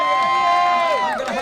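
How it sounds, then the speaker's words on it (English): Large crowd cheering and shouting at a MotoAmerica Stock 1000 motorcycle race podium at Barber, a loud, dense roar with whoops and a sustained tonal voice or horn running through it. "there's a big crowd out here"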